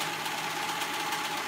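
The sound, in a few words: sewing machine sewing shoulder seams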